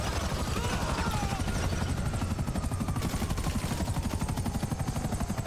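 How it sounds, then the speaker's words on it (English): A helicopter in Grand Theft Auto V thuds with fast, steady rotor beats, loud and close and continuous, mixed with gunfire-like bursts. "We gotta take out that chopper!"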